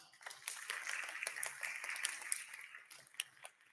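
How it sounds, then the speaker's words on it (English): An audience at a Kahoot quiz event run by an imam claps for a fifth-place team, a scattered, moderately faint round of applause with a few sharper individual claps standing out. "Can we get a round of applause?"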